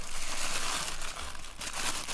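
A plastic bag crinkles and rustles around a removed diesel filter from a Perkins 4108 engine, a close, continuous crackling handled sound with no voices.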